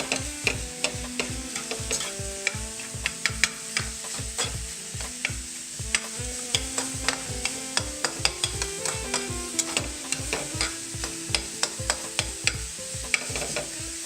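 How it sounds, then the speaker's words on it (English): Sausage browning in a pan while chopped portobello mushroom stems are stirred in, with a steady close sizzle under repeated scraping stirs throughout. "as the sausage browns, I will mix those mushroom pieces from the stem that I cut up and also blend that in there."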